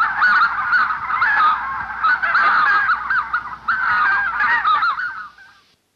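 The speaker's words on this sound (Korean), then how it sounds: "여러분 기러기 소리 어떻게 내는지 아세요?" Recorded wild geese honking, a dense flock calling over and over in overlapping nasal honks, loud and continuous before fading out at the end, with no talk.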